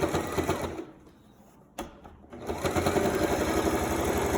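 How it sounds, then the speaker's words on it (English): A sewing machine stitches an understitch along a seam, its needle chattering rapidly and close, with a brief pause in the middle before it starts again and keeps running steadily. "Just go to the machine, and following the seam, you need to do the understitch"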